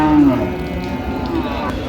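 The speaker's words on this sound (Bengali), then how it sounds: "আমরা দেখছিলাম এখানে একটি গাভী বাছুর বেশ সুন্দর কোয়ালিটির শাহিওয়াল দেখছিলাম" A Sahiwal cow with her calf lows once at a busy cattle market, a short mid-pitched moo over a constant murmur of crowd noise.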